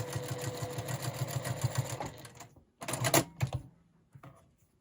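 A sewing machine stitches quilt blocks two at a time, running in a steady, loud rapid whir for about two seconds, then stopping and starting in short bursts as the foot pedal is eased.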